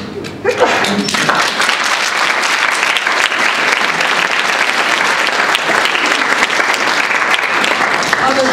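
An audience at a talk by Holocaust survivor Ruth Oppenheim breaks into loud, dense applause that starts abruptly and carries on evenly for several seconds.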